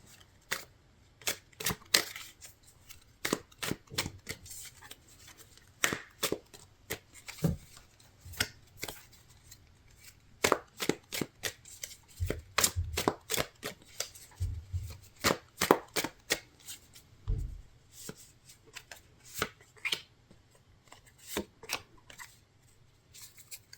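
Tarot cards are shuffled by hand in quiet, close irregular bursts of crisp riffling and snapping, with short pauses between runs.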